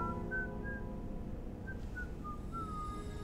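Someone whistling Rossetti's song from the game Ib, short melodic notes in a few phrases over a low steady game background hum, clear and close.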